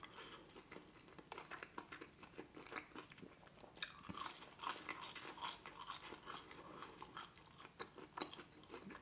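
Close, crunchy chewing of McDonald's fries, with irregular crisp bites and mouth sounds that grow louder and busier partway through, no talking.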